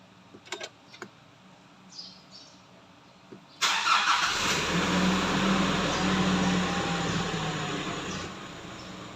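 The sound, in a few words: car engine starting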